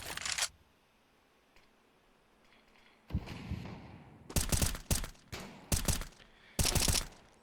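Tapped gunshots in a CS:GO competitive match, several short separate bursts of loud sharp shots spaced across the moment, with a quiet ambient gap between the first shot and the later cluster.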